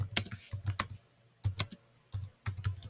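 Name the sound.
typing on a computer keyboard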